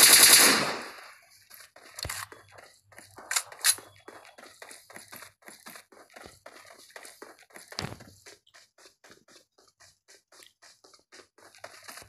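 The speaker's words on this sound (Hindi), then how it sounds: "आप लोग सोचते होंगे कि ये गोली बार बार क्यों चला दी" Repeated gunfire in the video game PUBG, with a loud burst at the start followed by many rapid shots and scattered bangs over about twelve seconds, heard alone without talk.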